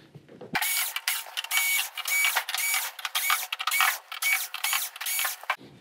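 Close mechanical whirring from a power screwdriver backing screws out of the back panel of an LG OLED55B6P OLED TV, in short bursts separated by brief pauses, with no talking.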